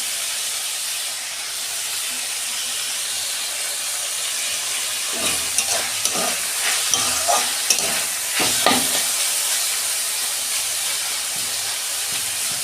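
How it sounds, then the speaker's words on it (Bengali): Squash frying in a pan with ground cumin, ground coriander and curry leaves, a steady sizzling hiss throughout, joined midway by several close scraping stirs of a spatula. "পাঁচ মিনিট মতন একটু ভাজা ভাজা করে নেব।"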